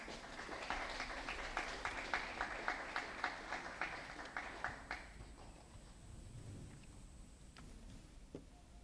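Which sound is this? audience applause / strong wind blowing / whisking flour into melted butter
audience applause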